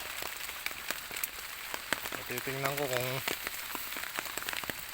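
Steady rain falls on an outdoor fishing spot, making a dense, even hiss with scattered sharp drops. Someone speaks briefly over it at a moderate distance.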